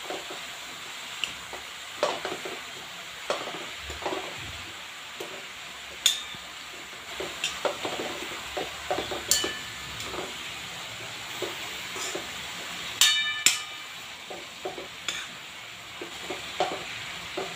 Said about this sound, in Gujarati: મિક્સ કરી લેશું.